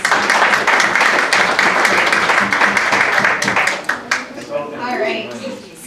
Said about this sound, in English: giving yourselves a big round of applause